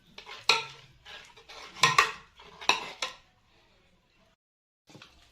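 A spoon scrapes and taps against a baking tray while béchamel sauce is spooned in for a minced-meat crêpe bake, three or four close clinks in quick succession, then a pause and one faint final tap.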